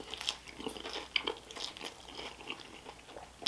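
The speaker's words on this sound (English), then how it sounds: "The bread, it's got a nice crunch to it." Crisp crunches of biting into garlic-buttered bread on a sirloin Italian hot beef sandwich, several close, sharp crackles followed by soft chewing, with no talking.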